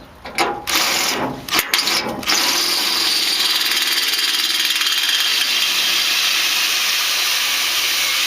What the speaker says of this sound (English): And I want to drill the second one.